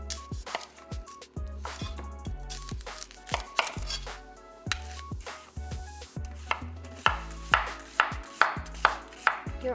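A sharp Batman-engraved knife chops an onion on a cutting board, giving a run of close, crisp thuds at an uneven pace that speeds into a quicker, louder regular rhythm toward the end, with no talk.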